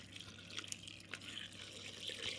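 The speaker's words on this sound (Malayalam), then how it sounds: "വെള്ളം ഒഴിക്കാം" Water poured into a cooking pot of spiced curry in a home kitchen, a faint soft splashing and trickling heard close up for a couple of seconds.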